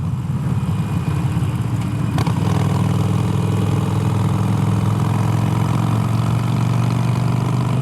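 Harley-Davidson Iron 883 motorcycle fitted with an aftermarket exhaust, idling close by with a deep, steady low rumble and a brief blip near the start.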